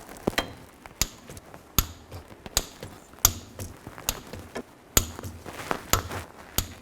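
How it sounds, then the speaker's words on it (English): A torque wrench tightens the rear differential cover bolts to 30 foot-pounds in a cross pattern on a 2000-06 Chevy Tahoe, producing a series of close, sharp metallic clicks and knocks at irregular intervals with quiet gaps between them. "Now I'm going to torque this to 30 foot-pounds, and make sure you torque it in a cross pattern."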